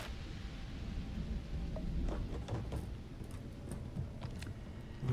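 Steady rain hisses across a Starfield landscape with low rumbling thunder underneath, a continuous stormy wash broken by faint scattered ticks and splashes, fairly quiet and without speech.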